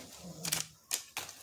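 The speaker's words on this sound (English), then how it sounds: "As she slowly shuffles the cards." Pokemon cards being shuffled by hand, heard as three short crisp riffling bursts in quick succession, fairly close with no talking.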